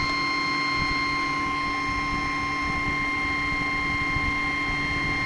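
The rotor of a pulse motor generator running on 24 volts spins at speed, giving a steady, unbroken mechanical hum with fixed tonal whines and a faint rapid ticking throughout.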